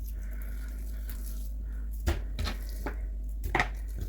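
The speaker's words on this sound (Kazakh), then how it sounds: "Ребрышки тоже нарезали." A few sharp chops of a knife through lamb ribs on a board, about four spaced thuds against a quiet kitchen hum.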